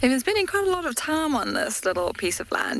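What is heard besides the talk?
None of the usual background noises is heard.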